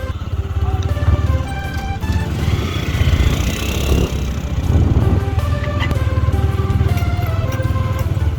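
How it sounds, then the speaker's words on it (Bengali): Motorbike ridden along a sandy track on a remote river island char, its engine droning steadily and loudly throughout with slight rises and falls as it labours through the sand. "প্রথম থেকে চরের বালুময় পথে বাইক চালাতে বেশ বেগ পেতে হচ্ছিল"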